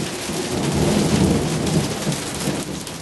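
Heavy rain pours down steadily during a thunderstorm in Forks, with loud thunder rumbling continuously underneath the dense hiss of rainfall, close and enveloping.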